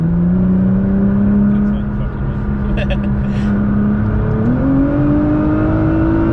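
A 590 bhp Nissan GT-R R35 sounds out with a loud, steady engine drone whose pitch holds, dips slightly, then climbs again as revs build. It is heard from close inside the car with a voice speaking over it.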